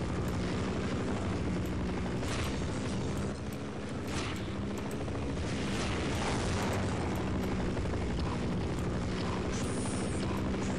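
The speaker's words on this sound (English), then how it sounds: "That helicopter is very loud." A helicopter in the Half-Life: Opposing Force video game roars as a loud, dense, steady rotor-and-engine wash that fills the whole stretch without pause, with no talk over it.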